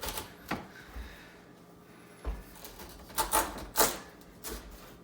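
A big chef's knife is pushed through a sweet potato to halve it. Several sharp, close knocks and clacks land on the cutting board at uneven intervals.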